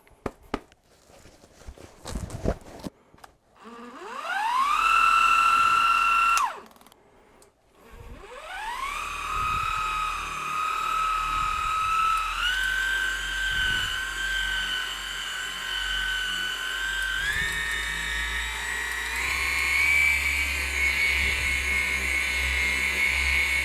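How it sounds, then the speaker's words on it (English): A RAYBAO cordless 12 volt car buffer polisher whirring close by, spinning up with a rising whine, stopping briefly, then running steadily with its pitch stepping up a few times as speed increases. "For a tiny 12 volt polisher, this thing actually has quite a bit of power"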